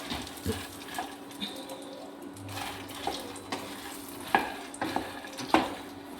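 Fox nuts (makhana) dry roasting in a pan, stirred with soft scraping and rattling over a low background, with several sharper clinks and knocks near the end; no one talks.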